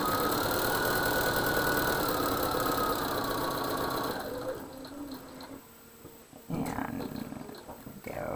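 A sewing machine stitches across the top of a quilt block, giving a steady, close whirring hum for about four seconds before it stops. Quieter handling sounds follow, with a brief louder clunk near the end.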